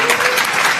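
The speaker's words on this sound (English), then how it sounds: "How about a nice round of applause for our organizing" A crowd at the Hokulea launch event claps together in dense, steady applause throughout the short moment, loud and close with no pauses.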